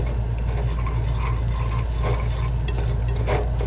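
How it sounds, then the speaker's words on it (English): Bacon frying in a pan over lowered heat, a steady close sizzle with a constant low hum underneath and occasional stirring scrapes. "lower your heat again and drop your bacon"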